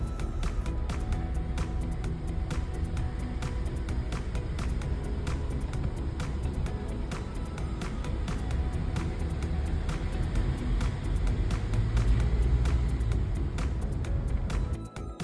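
A pickup truck drives along the Needles Highway in Custer State Park, South Dakota, with a steady, fairly faint low road and engine rumble from inside the cab, scattered with small clicks and rattles and no talking.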